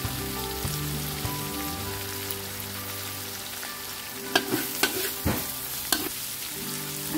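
Steady sizzling of an egg frying in hot oil in a wok while cooking fried kway teow, with a few sharp scraping clanks of a utensil stirring in the pan partway through.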